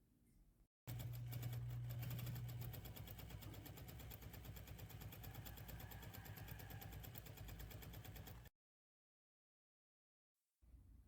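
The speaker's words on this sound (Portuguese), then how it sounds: "fazer uma costura de segurança em toda a volta para segurar essas linhas do tela C" A sewing machine stitches a safety seam around synthetic leather for a shoulder bag, its steady motor whir and rapid needle rhythm running loud and continuous for several seconds before cutting off into silence.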